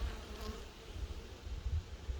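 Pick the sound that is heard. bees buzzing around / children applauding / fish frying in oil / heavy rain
bees buzzing around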